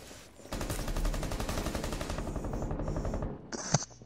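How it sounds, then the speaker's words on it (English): Video game gunfire, a long rapid automatic burst of shots at close range, loud and steady, ending with a brief second burst and a sharp final crack. "Shooting through this hole over here."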